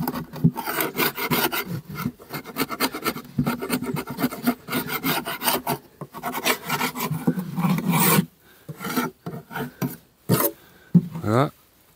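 Loud, rough rasping strokes scrape propolis off parts of a beehive nucleus box, repeating rapidly and steadily before breaking into shorter, separated scrapes near the end.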